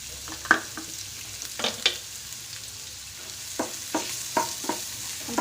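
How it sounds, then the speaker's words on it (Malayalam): Chopped onion frying in hot oil with asafoetida and cumin, a steady hiss broken by several sharp stirring scrapes and spatters, close and moderately loud. "നമ്മൾ അരിഞ്ഞ് വെച്ചിരുന്ന ഉള്ളി ഇട്ട് കൊടുക്കാം."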